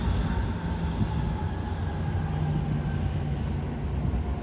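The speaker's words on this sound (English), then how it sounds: "That train going to Bakersfield." Amtrak San Joaquin passenger train rolling past Emeryville station in California on a hot day, a steady, loud, close rumble of wheels and cars with a continuous low drone and faint rail hum throughout.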